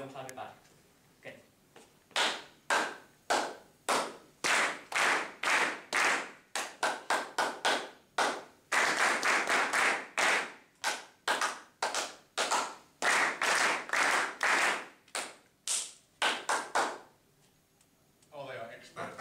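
Rhythmic group handclapping in a men's choir workshop, crisp bursts of claps in patterned sequences separated by short pauses, with a voice speaking between phrases.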